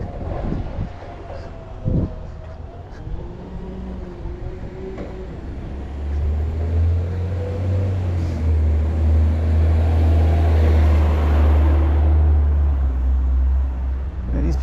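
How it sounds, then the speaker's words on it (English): A heavy vehicle rumbles in with a deep, loud low drone that builds and holds, passing close by. "Here comes a big old truck right at me."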